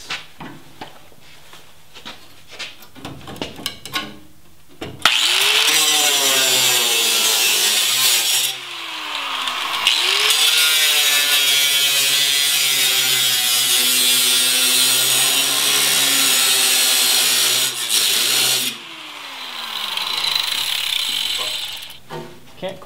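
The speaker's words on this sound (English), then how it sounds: "so I'll use the Sawzall to finish up" Power tools cut the steel rear quarter panel of a Jeep XJ. One loud, sustained cutting run lasts over ten seconds, its pitch dipping under load, followed by a shorter burst, with quieter handling noise between.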